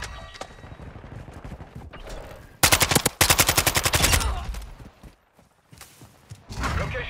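Automatic gunfire in Modern Warfare II during a Hardpoint match: rapid machine-gun bursts cut in suddenly after a stretch of lower game noise, then fade to quiet before more sounds return.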